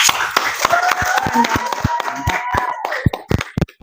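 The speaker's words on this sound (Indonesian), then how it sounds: "Tepuk tangan dong." Clapping for an award-winning student, a small group of hands giving sharp, uneven claps close by, with brief voices mixed in and the claps thinning out toward the end.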